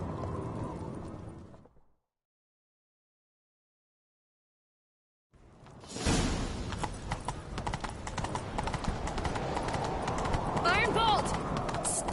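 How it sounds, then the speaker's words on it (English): Horses gallop in a fantasy video game during a chase, with steady clip-clop hoofbeats that fill the second half after a brief silence. Game voices and music sit underneath. "Grab a horse, we'll chase him down."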